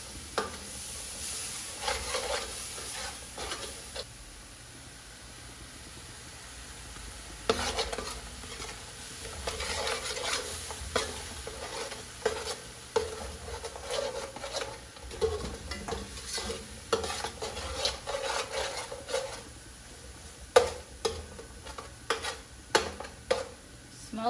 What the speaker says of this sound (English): let's allow the masala to fry for about 5 minutes or so